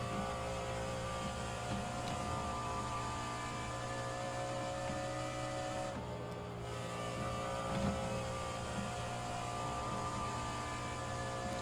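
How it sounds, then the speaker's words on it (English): A continuous NASCAR race car engine drone from the rFactor 2 video game, with humming undertone and slight revving changes, steady and fairly loud throughout, no talking. "I still have the engine sound a little bit too loud"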